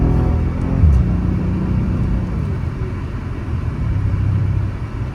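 A Mercedes CL63 W216 accelerates away with a deep, loud engine rumble and rising rev that stays strong and close, then settles into a steady roar without any talk.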